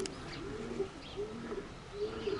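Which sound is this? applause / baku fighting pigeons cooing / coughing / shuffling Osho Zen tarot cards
baku fighting pigeons cooing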